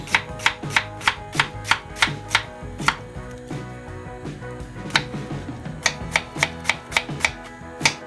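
A knife chops vegetables, likely onion, on a cutting board in a home kitchen during artichoke cooking, with about twenty crisp, steady, close cuts and no talking.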